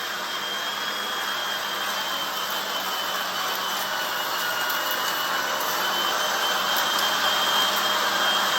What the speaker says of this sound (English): Hey, and another shop vac for your garage, that'll do that, folks.